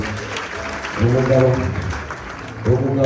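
Audience applause at a wedding gathering keeps up as a steady background clatter while a voice talks over it and briefly rises louder.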